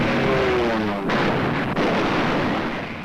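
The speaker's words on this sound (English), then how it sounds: "Look at these explosions" Explosions in archival documentary footage of the Battle of Los Angeles, the 1941 wartime air-raid scare: a dense, roaring wall of booming blasts and rumble that runs the whole stretch with brief sharp breaks, loud and continuous.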